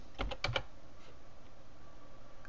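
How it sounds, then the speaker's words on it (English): Quick burst of a few crisp keystrokes on a computer keyboard, close and clear, followed by quiet room tone with no talking. "I'm going to just type in Pearl Harbor"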